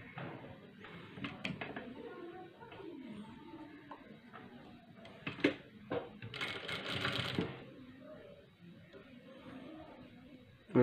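Sewing machine stitching the sleeve of a cross-cut blouse, running in short bursts and pauses with a steadier stretch of stitching near the end, fairly close, with soft handling noises between runs.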